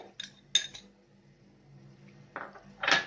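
A spoon mixes a gooseberry and curd dish in a bowl, giving a few sharp metallic clinks and scrapes against the bowl, spaced with quiet gaps between them.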